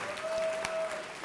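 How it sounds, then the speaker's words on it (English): A brief burst of audience applause for Reverend Sharpton at a National Action Network event, with dense clapping from a large crowd. "let's give Reverend Sharpton a round of applause for what he has built"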